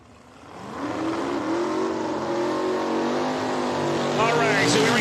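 A 1998 Pontiac drag race car with a 632 cubic inch engine fires up at an outlaw drag strip event, its deep rumble building from quiet into a loud, steady roar that swells further near the end.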